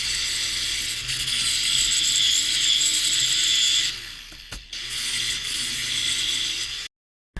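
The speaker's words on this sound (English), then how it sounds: "The easiest way to deal with this on parts this small, use a flap disc." Flap disc on a grinder working small metal parts for garden markers, a loud continuous abrasive whine that cuts off briefly in the middle, resumes, then stops abruptly near the end.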